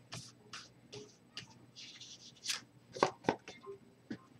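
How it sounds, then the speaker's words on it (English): Tarot cards fanned out and handled on a table during a reading: a string of soft, papery slides and flicks with several sharper snaps, close and fairly quiet, with no talking. "I'll give it one more shuffle and then fan these out."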